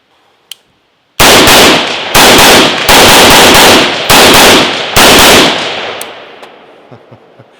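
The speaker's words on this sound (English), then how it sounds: "I'm going to go ahead and do some shooting with it real quick" Rapid rifle gunshots from an AR-style rifle fitted with a Geissele SSA-E trigger, fired outdoors at close range: roughly six loud, sharp cracks in an uneven string, each trailing into a fading echo, with no talking.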